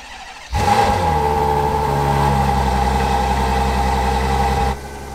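Ferrari GTC4 Lusso engine starting up: a sharp crank then a loud, steady high idle that holds for several seconds before dropping off abruptly.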